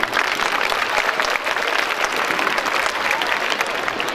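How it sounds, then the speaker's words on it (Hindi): Audience clapping for the children at a Hindi-medium co-ed school's annual day celebration in Bhopal, a dense, steady wash of applause that fills the whole stretch without letting up. "इनको हम तालियों से हम उनके एक और बार बधाई दें"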